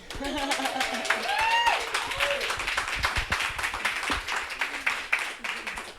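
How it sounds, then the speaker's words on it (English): An audience at a live podcast recording at Bee Fest breaks into a round of clapping and applause, while a voice keeps talking over the crowd noise. "Let's hear a round of applause."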